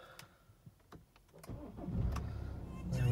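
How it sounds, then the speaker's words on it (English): A 2013 BMW X3 20d xDrive SE diesel cranks and fires up after some light cabin clicks, then settles into a steady, close idle rumble. "Start the car up."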